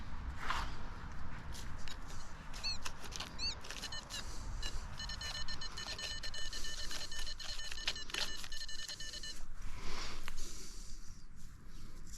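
Metal detector on a beach giving a tonal signal over a buried coin, a series of short electronic beeps and sustained tones repeating for several seconds over windy outdoor background noise.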